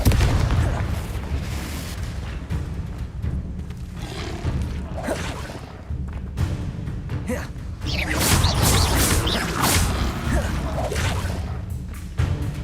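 Confringo spell blasts from Hogwarts Legacy make dense, booming explosive bursts with whooshes, crashing over a constant loud battle rumble. The impacts are repeated and close, and no voices break through.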